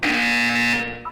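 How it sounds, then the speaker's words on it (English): A loud, sustained electronic buzzer tone from the video game Portal 2 holds steady for about a second, then tapers off, with brief tonal blips at the end. "When you hear the buzzer, look down at the floor"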